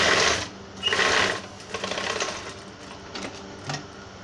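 Sewing machine stitching a trouser pocket closed, short bursts of fast mechanical whirring and clatter with brief pauses between runs, close and clear, no talking.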